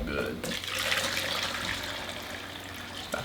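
Liquid poured into a container during a buoyancy science experiment at home, a continuous splashing, gurgling pour lasting several seconds at close range.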